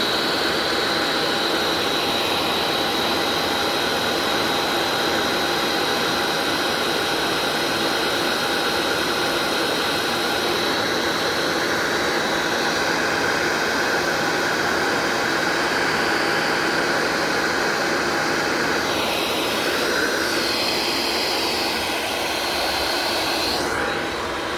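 A heat gun shrinking heat shrink tubing onto a torch hose while swapping a P-80 machine torch onto an ESAB PCM-1125, a loud, steady blowing roar that continues unbroken throughout.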